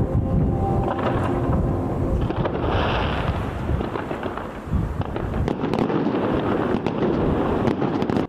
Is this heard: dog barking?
no